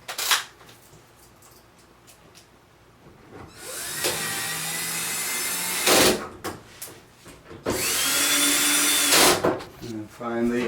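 A power drill driving screws with washers into the front of a Samsung dryer during a roller wheel repair, two loud sustained whirring bursts close by with quieter clicks and handling noise between them.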